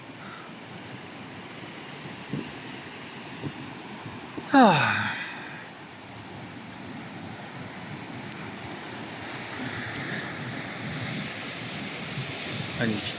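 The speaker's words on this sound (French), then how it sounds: "Il y a des petites vagues." Small sea waves break on the shore with a soft, steady wash of surf under wind buffeting, loud and close throughout, while a person speaks briefly midway.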